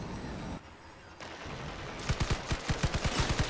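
Rapid bursts of gunfire from the vehicle combat game Crossout, a steady run of evenly spaced loud shots in the second half over a constant background rumble.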